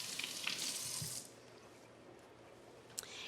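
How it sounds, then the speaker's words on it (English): Fingers are rinsed under a running kitchen tap, a soft hiss of water for about a second before it drops away to quiet, with a small splash near the end. "Let me rinse my fingers."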